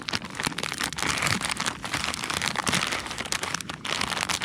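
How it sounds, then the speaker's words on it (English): Crinkly plastic rustles steadily and close up for several seconds as an instant noodle packet is worked open, with no talking. "Sorry about the rustling noises."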